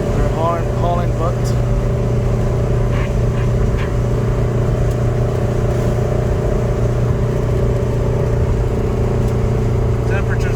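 A car on the highway at 70 mph, with a constant loud engine and road drone heard from the cabin and a voice speaking over it at times.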